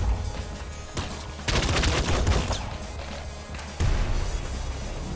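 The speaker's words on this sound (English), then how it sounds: "Laser pistol." Laser pistol shots in the game Nuclear Throne, a few loud rapid bursts with crashing impacts over a steady game backdrop, one cluster near the middle and another toward the end.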